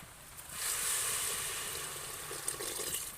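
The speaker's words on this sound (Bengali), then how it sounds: "এবারে পানি ঢেলে দেব।" Water is poured into a pot of fried spices for khichuri, setting off a loud rushing hiss and sizzle that peaks quickly and then settles into a steady simmering fizz.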